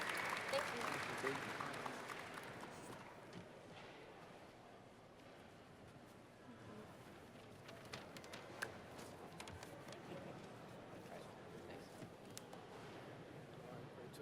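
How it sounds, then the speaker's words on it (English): An audience at the ALL IN! event claps for Melissa and Doug, a burst of applause at the start that soon thins into scattered claps and quiet room noise. "Can we give them one last round of applause, please?"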